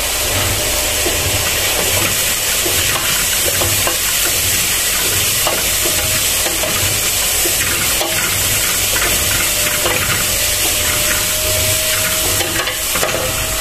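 Onions frying in a pan while cooking Indian pulao with meat, a continuous loud sizzle and crackle of hot oil with occasional scraping stirs, steady throughout with no talk.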